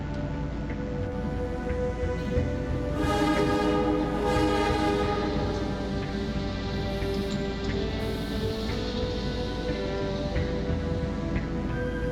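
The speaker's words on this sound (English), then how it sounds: "See, boss, there is a train to Metropole" A train pulls into a station in the adventure game Primordia, with a steady mechanical rumble and layered horn-like whistle tones sounding in a few pulses across the whole stretch, loud and close with no talking.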